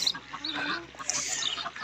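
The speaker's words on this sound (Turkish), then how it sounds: "Bizim ördekler" Several ducks quack and chatter close by in a continuous, busy flock, with faint farmyard background noise, on a farm by Lake Tuz.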